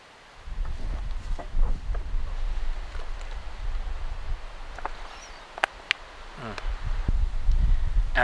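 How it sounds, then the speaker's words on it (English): Gusty wind buffets the microphone at an outdoor bushcraft base camp, a steady low rumble with rustling and a few sharp knocks, growing stronger toward the end. "Can you even hear me with all this wind?"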